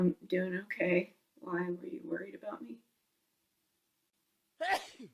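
Someone speaks briefly, then after a pause a single sharp sneeze bursts out close by.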